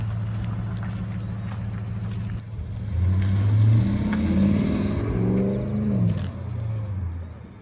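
A modified Lexus project car pulls away, a low steady idle giving way to a louder revving engine whose pitch climbs and wavers as it drives off, fading slightly toward the end.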